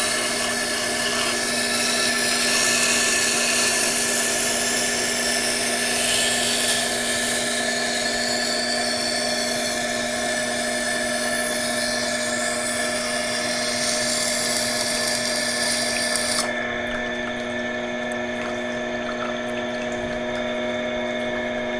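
A Tormek sharpener grinds a blade edge until a burr forms, giving a loud steady whirring drone with a scraping rub layered over it that drops away near the end, leaving the motor hum alone.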